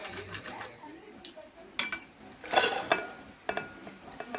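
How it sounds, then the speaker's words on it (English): A knife taps and scrapes against a chopping board in scattered, uneven strokes as chicken is cut into small cubes, fairly quiet and close. "Now I will cut all this chicken into small pieces like this."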